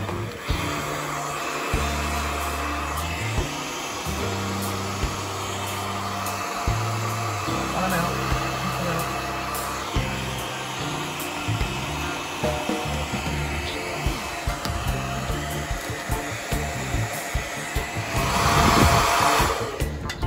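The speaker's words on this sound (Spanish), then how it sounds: "Ha sido 10 segundos de secador de pelo y ha salido" An electric hair dryer blows on an old sticker on a caravan's paintwork, a continuous rushing whir under intermittent Spanish speech, swelling louder near the end.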